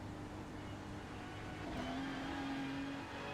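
A race car engine in the iRacing sim at Spa-Francorchamps, droning steadily at moderate volume, with a rising whine and a shift partway through, no voices.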